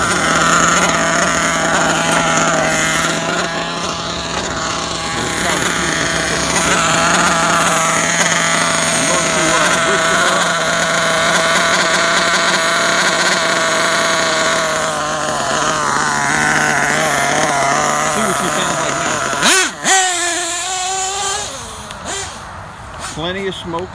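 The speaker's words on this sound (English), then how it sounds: "All you have to do is listen to the engine." A Losi 8ight RTR nitro RC truggy runs with its cover off, a steady high-pitched buzzing whine heard up close under continuous talking, ending in a sharp revving burst near the end.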